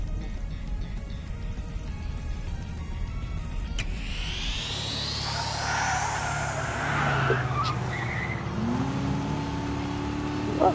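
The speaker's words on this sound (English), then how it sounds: "Is that a turbocharger?" Turbocharged car engine revving in the Trails Through Daybreak video game, a rising whine and engine roar with sweeping pitch climbing over steady game ambience, loud and close, no talking.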